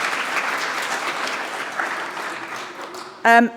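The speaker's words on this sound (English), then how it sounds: "So we will do a brief round of applause for Claire and the creche." Applause from a conference audience at the PyCon UK 2023 welcome session, a broad steady clatter of many clapping hands, moderately loud and sustained, with a brief louder voice or tone near the end.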